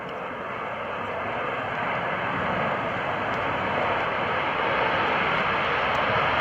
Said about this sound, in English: Look to the left now for the Navy's FA-18 Hornet on the roll.